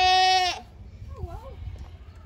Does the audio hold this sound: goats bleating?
yes